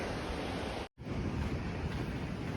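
Ocean surf washes onto a sandy Oregon coast beach in a steady broadband roar with wind buffeting the microphone, briefly cut to silence for a moment, with no voices.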